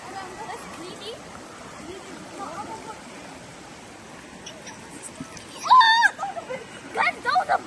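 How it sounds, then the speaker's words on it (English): A large rock thrown into the water at a waterfall lands with a splash over the steady rush of falling water, followed by excited voices talking nearby. "I'm gonna throw this massive one."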